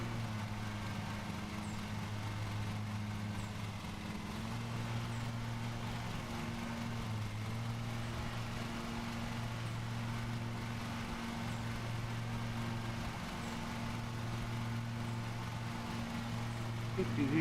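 A lawn mower engine in the Lawn Mowing Simulator video game drones steadily and continuously throughout, a low, even hum being pushed hard while mowing, with no one speaking over it.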